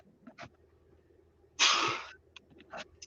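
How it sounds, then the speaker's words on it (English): A single sharp sneeze bursts out mid-clip during a live talk show, loud and close, framed by a few soft breaths and faint clicks before and after. "I'm going to sneeze, I think."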